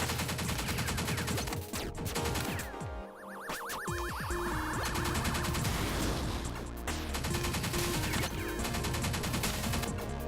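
Rapid gunfire and explosive bursts fill the action game Pineapple Smash Crew, with dense repeated shots, rising electronic tones and game music layered loudly throughout, no talking.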